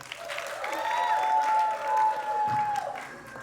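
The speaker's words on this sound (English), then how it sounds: "You all give her a round of applause." Guests at a book launch event give a round of applause, a full, steady clapping from a room-sized audience with a brief cheer in the middle, fading near the end.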